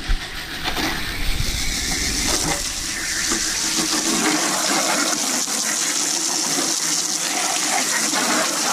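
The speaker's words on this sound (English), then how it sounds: "See how the water goes through?" Water rushes through the drain ports of an air conditioner unit during maintenance, a steady splashing gush that runs continuously and fairly loud after a few initial knocks.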